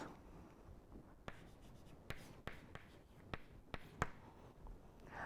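Faint scratching and tapping of a pen writing an equation during a quiet physics lecture, with a series of sharp taps scattered across the strokes and no voice over it.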